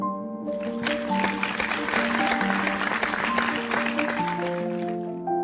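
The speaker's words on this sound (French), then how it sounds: "je vous demande une fois encore d'applaudir" Sustained applause from an audience fills the room, steady and fairly loud, with held musical tones playing underneath.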